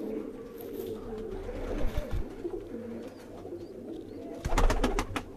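A green-pearled pigeon coos in soft, low, repeated throaty notes nearby, with other bird calls and a few sharp chirps toward the end.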